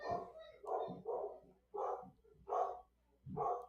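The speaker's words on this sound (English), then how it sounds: "Apologize if I hear my dog barking." A dog barks about five times in a steady series, each bark muffled and somewhat distant, with short pauses between.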